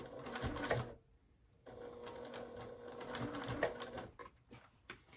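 A sewing machine runs in rapid stitching bursts along a clutch seam, pausing briefly in the middle before resuming with steady needle clatter, fairly close and unaccompanied by talk.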